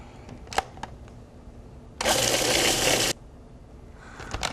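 A food processor grinds basil with other ingredients in a home kitchen, sounding as one loud, close whirring burst of about a second amid quieter handling noises.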